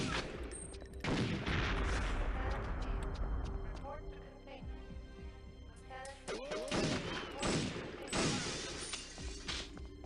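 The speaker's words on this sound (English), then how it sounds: "Shooting at me through the window with a fucking non-lethal weapon." Gunfire from a non-lethal weapon in the video game Perfect Dark, fired through a window, comes as loud crackling bursts with sharp electronic tones and glassy crashes, over game music and effects.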